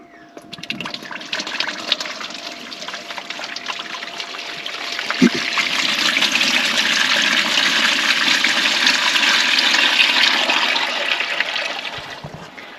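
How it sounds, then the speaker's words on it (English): Grey water tank from an off-grid washing setup being emptied, water gushing and draining in a broad steady rush that swells after a few seconds and holds, fairly close, with no talking. "So I'll empty the grey water tank and see what went in there."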